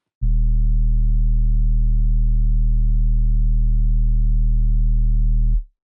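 A trap 808 bass note pushed hard through saturators until it clips sustains as one steady, loud, dense low tone for about five seconds, then cuts off.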